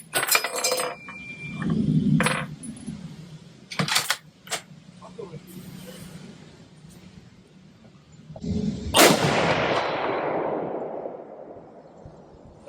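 Rifle shots fired toward a 200-yard target with a DNT Optics The One 7-35x56 scope, a few sharp cracks spread apart, the loudest near the end with a long decaying echo, amid metallic clinks and quiet talk.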